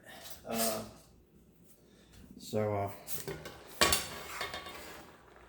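Spoon stirring vegetables in butter in a pan, a few brief clanks and scrapes against metal spaced across the moment, with soft background quiet between them.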